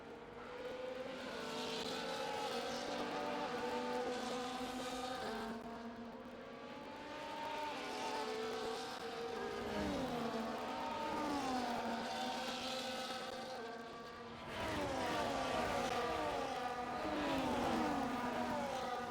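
Race cars on a formation lap at Circuit of the Americas in a racing video game give a loud, continuous engine drone whose revs rise and fall as several cars run together, with no talking.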